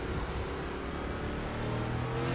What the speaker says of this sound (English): virtual onboard camera shot of Jensen Case, we can kind of listen into the throttle inputs.